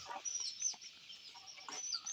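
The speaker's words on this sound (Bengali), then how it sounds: "দেখুন বন মুরগি সব নেমে গেছে নিচেই" Soft, distant clucks and chirpy calls from wild junglefowl come in scattered bursts over a quiet background, around dawn.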